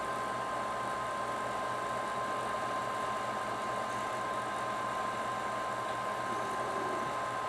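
Guitar pickup coil winding machine spun up to speed, a faint steady motor whir with a constant hum and tonal whine, unbroken throughout.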